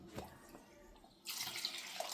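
Water is poured into a pot of drumstick pods. A quiet pause gives way to a sudden, steady rush of splashing liquid that lasts about a second.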